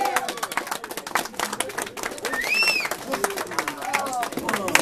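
Audience applause and crowd noise at a female rap battle event, a steady patter of clapping mixed with whoops and crowd chatter, with voices calling out throughout.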